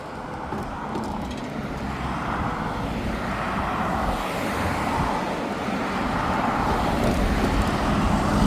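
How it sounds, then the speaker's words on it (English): Road traffic at the bottom of a hill: a steady, broad roar of passing cars that grows slowly louder, with no talking. "Now this traffic is just gonna get heavier"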